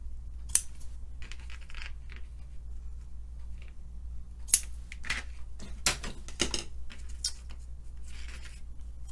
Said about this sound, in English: Bring in my ribbon scissors.